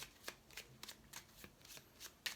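Tarot cards being shuffled by hand, a run of quiet crisp riffling flicks at a loose, uneven rhythm, close and soft with no talking.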